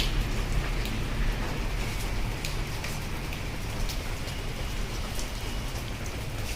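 Steady rain falls outdoors onto potted golden pothos plants, a continuous dense patter with scattered sharper drops, even in loudness throughout and with no voices.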